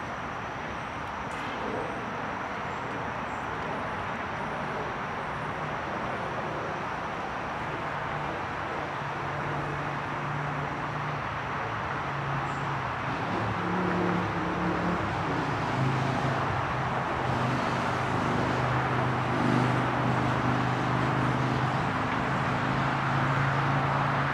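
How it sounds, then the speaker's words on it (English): A steady wash of road traffic noise fills the Hudson River Greenway in New York City, with passing vehicles rumbling and swelling midway and no talk over it. "try to get away from the traffic noise"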